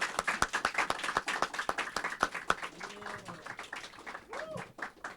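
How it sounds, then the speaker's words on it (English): A small group claps at a school media team appreciation ceremony, a loose, uneven run of distinct hand claps that starts strong and thins out, with voices talking softly underneath toward the end. "Let's do another round of applause."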